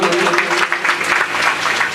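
An audience claps together during a Marathi kirtan in Umred, a short burst of steady, close applause from a gathered crowd.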